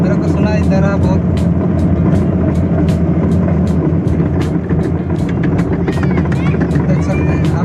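Maruti 800 car rattling as it drives, a loud continuous clattering, knocking engine and road noise filling the whole stretch with steady vehicle rumble underneath and a voice talking over it.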